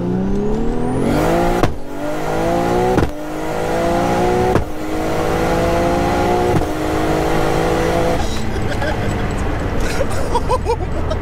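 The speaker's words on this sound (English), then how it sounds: "Yeah, it's the ignition cut." Sequential-geared 955 bhp Nissan R33 GTR accelerating hard, its engine rising in pitch through several rapid upshifts with a sharp break at each change, loud and close, ending in crackling ignition-cut pops.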